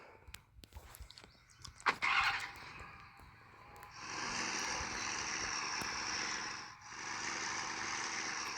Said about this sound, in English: let me just move my truck.